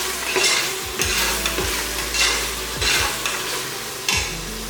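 Ginger-garlic paste for mutton biryani frying in oil, a bright close sizzle with rhythmic spatula strokes scraping the pan about once a second, no talking.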